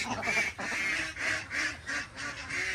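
Pet ducks (itik) in a backyard pen fed chopped kangkong, with repeated nasal quacks and busy squabbling calls rising and falling in short bursts throughout, fairly close and without talk.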